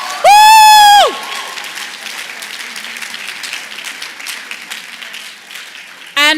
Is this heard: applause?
yes